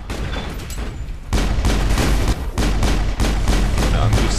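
Rapid gunfire in Mass Effect, loud crackling bursts of shots in quick succession with sharp breaks between volleys, close and dominant.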